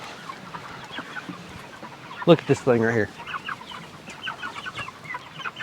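Chickens clucking in a farm pen where a slow-growing, nearly featherless bird stands among the flock, with a loud close burst of clucking in the middle while someone talks over it.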